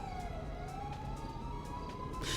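An ambulance siren wails with a steady, slowly rising and falling tone over constant low traffic rumble, moderately distant and continuous throughout.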